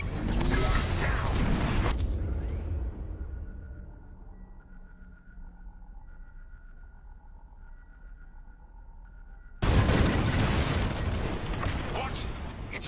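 Bombs dropping and exploding in Star Wars Squadrons: a broad, roaring blast fades into a low, muffled rumble with faint tones, then a second heavy explosion hits abruptly and rolls on loudly to the end.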